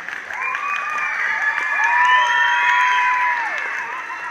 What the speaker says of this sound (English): let's give a nice round of applause to Sia Patel